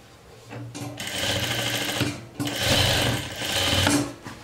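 A home sewing machine runs in short bursts while sewing a beginner's jumpsuit, stopping and restarting with a steady mechanical whir; one burst is likely a reverse backstitch.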